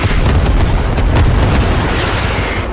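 Orbital bombardment in Hearts of Iron IV with a Star Wars Executor mod, heard as a loud, continuous rumbling blast that washes over everything and fades slightly toward the end.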